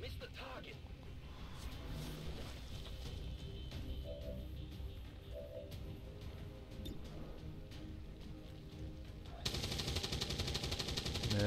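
Automatic gunfire from soldiers in the strategy game XCOM 2 (War of the Chosen), with shots missing their target: repeated rapid bursts over steady game ambience, ending in a louder final stretch.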